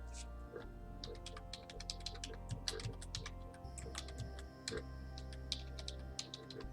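Quick, close clatter of keys on a computer keyboard, dense irregular clicks over a low background hum.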